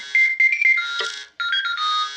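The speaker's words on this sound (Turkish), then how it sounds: "Alarm çaldı ya alarm." A bright electronic alarm tone rings in repeating melodic bursts in the game Toca World, fairly loud and close, with a brief pause midway.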